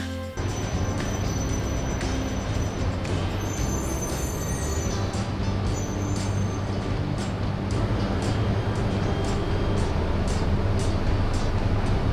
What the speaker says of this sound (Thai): พอดีเรามาได้จังหวะรถไฟชินเซ็นเขากำลังจะต่อขบวนกัน